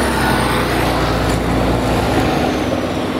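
Dense street traffic in Barnaul near Nagorny Park: many cars pass in a loud, continuous roar of engines and tyres close by, with no pauses.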